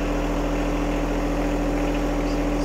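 A John Deere 1025R compact tractor engine runs at a steady idle-like drone while scraping, a constant near humming with no change in pace and no talk over it.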